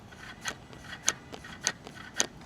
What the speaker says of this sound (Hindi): ये जो आवाज़ आपको आ रही है ना, that is electronic throttle body